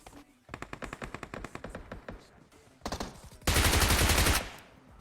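Bizon submachine gun firing in the mobile battle royale game PUBG Mobile, rapid rhythmic bursts of automatic shots, then a short pause and a loud, dense sustained burst before fading, no talking over it.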